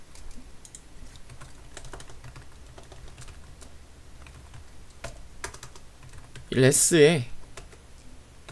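Keys clack steadily on a computer keyboard while code is written, light and close with irregular bursts, and someone speaks briefly partway through.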